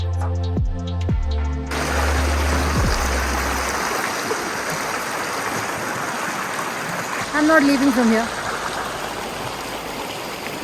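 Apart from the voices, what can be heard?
Indus River flowing water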